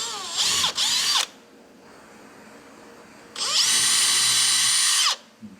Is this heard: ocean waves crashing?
no